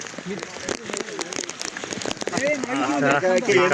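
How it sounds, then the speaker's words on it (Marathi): Heavy rain patters steadily throughout on a trek from Panhala to Pawankhind, with voices and some traffic-like noise mixed in, growing a bit louder toward the end. "जोरात पाऊस चालू आहे."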